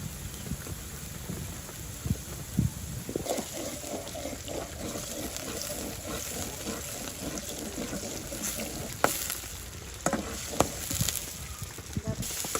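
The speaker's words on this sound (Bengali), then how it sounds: "এই জন্য দিয়ে দিচ্ছি ছায়া মাছের তেল" Fish oil sizzling steadily in a pan as fish is about to be cooked for a village-style lentil dish, a continuous low crackle with a few sharper pops and clatters standing out near the end.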